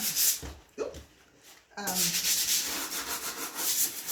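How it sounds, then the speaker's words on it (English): Steady scratchy rubbing of light sanding on painted wood furniture, continuous after a brief pause, close and fairly loud with a faint voice early on. "once it's dry I would then just give it just a very light sanding over"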